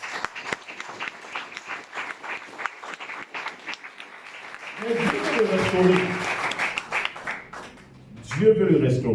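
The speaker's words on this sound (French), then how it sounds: "Est-ce que quelqu'un peut acclamer le Seigneur?" A church congregation claps and cheers during a service while a preacher keeps speaking. The applause swells midway and builds again near the end.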